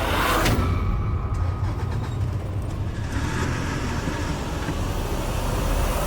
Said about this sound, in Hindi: गाड़ी घाट की ओर ले लो परवेश